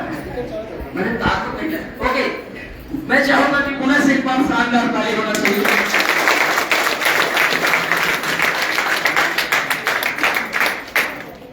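A seminar audience breaks into loud, dense applause after someone speaks briefly over scattered claps, with the clapping swelling and holding steady to the end.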